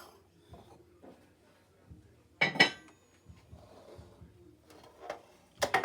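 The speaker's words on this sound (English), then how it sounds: "Pans, loaf pans." Metal loaf pans clatter and clink as they are handled in a home kitchen while making zucchini bread, with two sharp bursts of clanking midway and another at the end, over quiet background movement.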